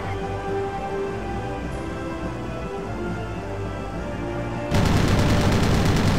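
Aircraft guns in the WarBirds flight combat game: a steady engine drone for several seconds, then a loud rattling burst of rapid fire that continues to the end.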